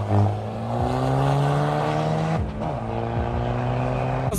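Loud engine and exhaust of a Volkswagen Golf 3 with an Audi 2.0 turbo engine roaring hard at a drag race launch, pitch climbing, dropping briefly at the shift to second gear, then rising again.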